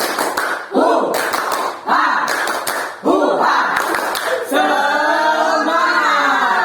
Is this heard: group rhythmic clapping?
yes